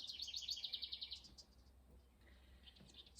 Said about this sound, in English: We got the birds singing to us this morning.